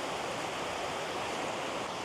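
Steady, dense rush of a small waterfall at the end of an out-and-back hiking trail, a continuous broadband roar heard close with no breaks or voices.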